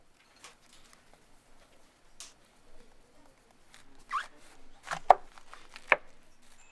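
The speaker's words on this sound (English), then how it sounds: "Chop the cabbage finely and place in a bowl." A kitchen knife chops microwaved cabbage finely on a board, making sparse, soft tapping cuts that are faint at first and grow a little louder toward the end, with a few sharper knocks.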